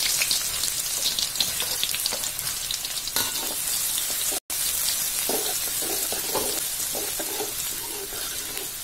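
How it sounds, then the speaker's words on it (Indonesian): Red onion and garlic sauté in a hot pan, giving off a steady, close sizzling hiss with occasional stirring scrapes. "Pertama-tama saya akan tumis dulu red onion dan garlic."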